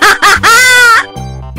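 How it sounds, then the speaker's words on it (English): A loud, close, crowing-like chicken cry in a cartoon rises through a few short bursts into a long drawn note, then a lower buzzing tone follows. "Chicken. Who did that?"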